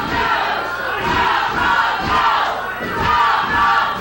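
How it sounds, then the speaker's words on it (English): Arena wrestling fans jeer and shout loudly in a dense, continuous crowd roar that swells and dips in waves, with no commentary over it. "You hear the fans here."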